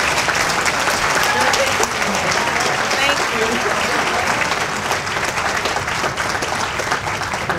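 At an awards banquet, a large audience claps loudly and continuously, a dense, sustained roar of many hands that stays strong from start to finish.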